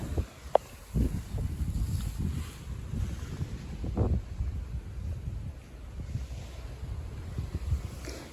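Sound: large slow boat motoring on a sea trip

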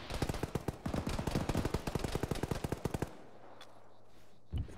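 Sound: gunfire in a military video game (Arma, ShackTac)

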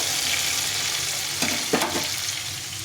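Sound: tomato frying in a pan

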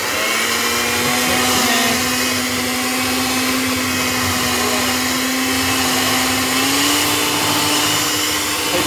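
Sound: mixer mixing keto chocolate chip blondie batter

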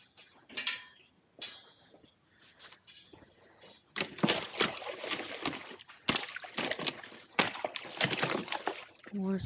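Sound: water sloshing

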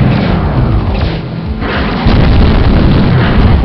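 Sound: ionic turbines exploding in Hellbender video game

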